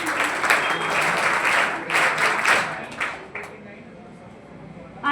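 Audience applause at a 12th board student merit award ceremony, a loud sustained burst of clapping from a crowd that swells, then thins into scattered claps and fades, with a fresh burst at the very end.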